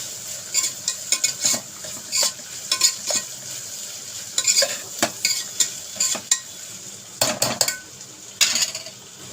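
Fried broad beans with coconut and dried red chillies are tossed in a pan, with a spatula scraping and clinking against the metal in quick irregular bursts over a soft sizzle, close up and without speech.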